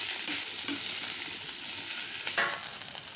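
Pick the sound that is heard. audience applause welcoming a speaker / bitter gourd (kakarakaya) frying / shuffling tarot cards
bitter gourd (kakarakaya) frying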